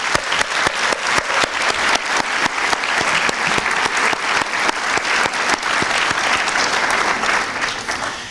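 Sustained audience applause at a film festival as guests are welcomed onstage, a steady dense patter of many hands clapping throughout, fading slightly at the end.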